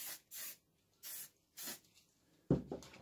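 A trigger bottle of Maxima SC1 cleaning spray gives three short, crisp spritzes onto a coffee roaster, followed by a sharper handling knock and rustle near the end.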